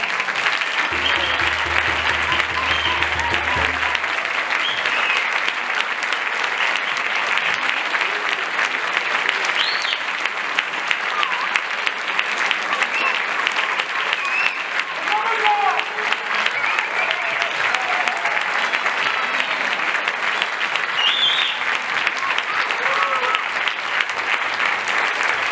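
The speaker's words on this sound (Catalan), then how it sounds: "Un aplaudiment per a tots els nostres cantants," An audience applauds the singers at a Christmas concert, sustained dense clapping from a full hall that carries on steadily throughout, with a brief low tone near the start.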